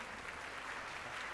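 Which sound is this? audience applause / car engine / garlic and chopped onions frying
audience applause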